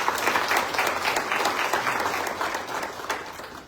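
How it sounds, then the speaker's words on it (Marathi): A crowd at a Marathi book event breaks into warm, sustained applause, many hands clapping together in an even, rattling wave that holds steady and fades slightly at the end. "त्यांच्यासाठी सगळ्यांनी जोरात टाळ्या वाजवा"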